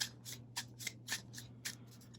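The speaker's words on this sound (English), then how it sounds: "So give me 1 sec while I shuffle." A deck of Yu-Gi-Oh! trading cards is shuffled by hand in a quick series of soft, crisp riffling bursts, close and quiet over a faint hum.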